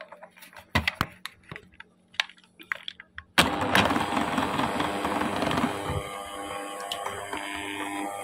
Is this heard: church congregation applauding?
no